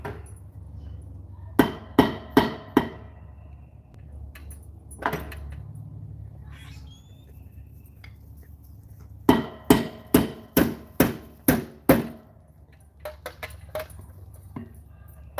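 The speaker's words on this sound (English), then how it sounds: "Rivet set, and make sure it's right up against the anvil." Hammer striking a rivet set held against an anvil, sharp metallic blows in bursts of three or four, then a long quick run of strikes, with a few softer taps between.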